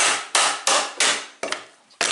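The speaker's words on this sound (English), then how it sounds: "and then use a wood chisel" Six sharp, loud knocks of a mallet on a chisel cleaning out a white oak joint, fairly regular, each with a brief decay, heard close with no talking.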